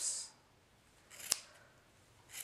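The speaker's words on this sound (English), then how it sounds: "Start with one side and cut through all these loops." Scissors snip through the yarn loops of a handmade pom pom: a few soft cutting rustles, then one sharp, close snip in the middle and another cut at the end, with no talking.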